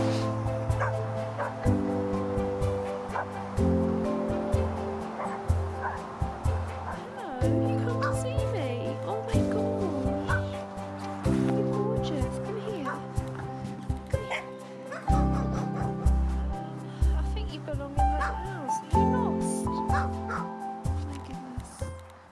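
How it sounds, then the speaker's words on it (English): A loose puppy on a canal towpath yips, whimpers and barks repeatedly at close range, its excited calls running over a steady low engine drone with voices nearby. "I think that dog's got out again."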